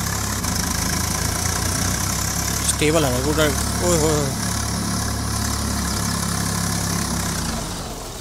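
A tractor engine in the video game Farming Simulator 22 drones steadily at a constant, close hum, while someone talks excitedly over it in the middle of the stretch.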